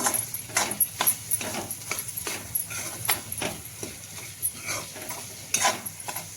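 A spoon stirs masala into taro (arbi) curry frying in a pan, making repeated scraping strokes in an uneven rhythm over a soft background sizzle, close to the listener, with no speech.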